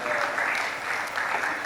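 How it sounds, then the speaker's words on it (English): An audience at a biotechnology conference applauds, a brief, steady wash of clapping at moderate volume that holds evenly without any speech on top. "A round of applause for Dr. Charles Adetunji."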